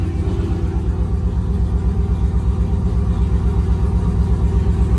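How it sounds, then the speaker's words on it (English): A 2005 GMC truck with a single turbo idles steadily, a low continuous rumble with a faint ticking from a small exhaust leak at the downpipe, loud and close with no talking. "Has a small exhaust leak right off the downpipe"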